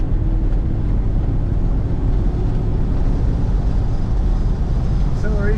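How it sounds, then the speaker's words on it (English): A white 1970 Cadillac DeVille convertible with a brown interior cruises along, its engine a steady low rumble under constant wind and road noise, heard from inside the open car with no clear talk. "Smooth running Cadillac."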